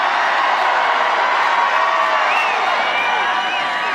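Dense crowd noise from a big political rally in Reading, Pennsylvania, a steady wash of cheering voices with occasional whistles and whoops, loud and sustained throughout.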